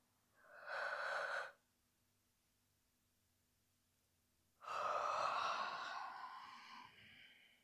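A person in a gentle yoga session, lowering the arms alongside the body, yawns twice: a short breathy yawn, then after a quiet pause a longer, voiced yawn that slowly fades.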